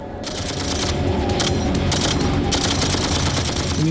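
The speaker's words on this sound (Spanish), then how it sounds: "Entonces recurren a la ametralladora M60 del batallón." An M60 machine gun fires in rapid bursts, loud, sharp automatic reports clustering into several volleys over a dense background of battlefield noise.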